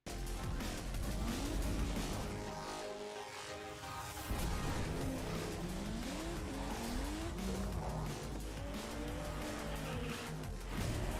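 Toy cars racing in the Hot Wheels Unleashed video game, with whining engines sweeping up and down in pitch and scattered tire squeals, a loud, continuous stream of game audio with no talking.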